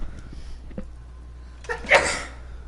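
A single sharp sneeze, near and fairly loud, after a quiet stretch with faint background hum.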